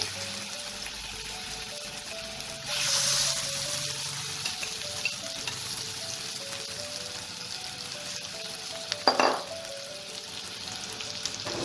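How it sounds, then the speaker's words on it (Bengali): Mashed potato fries in hot mustard oil for Bengali aloo chop, giving a continuous close sizzle with a burst of louder spitting early on and another brief crackle later, under a faint melodic background tone. "সর্ষের তেলটা আমার গরম হয়ে গেছে। এবার এই তেলে আমি এই আলু মাখাটাকে দিয়ে দেবো।"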